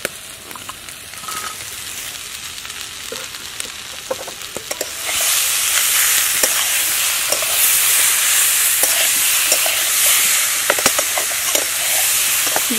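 Prawns hit a hot pan of oil and spices in a village-style kitchen, and the frying jumps from a quieter crackle to a loud, continuous sizzle and hiss, with scattered clicks of stirring throughout.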